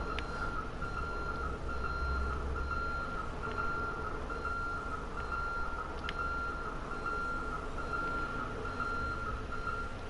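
Reversing beeps from a semi truck in GTA Online, an evenly spaced electronic beep repeating over a steady engine drone for the full stretch, fairly loud and close.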